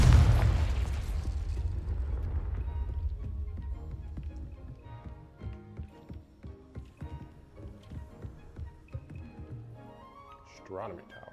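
A loud explosive burst from the Confringo spell in Hogwarts Legacy opens, followed by a decaying rumble and scattered smaller pops and crackles over game music, with someone speaking.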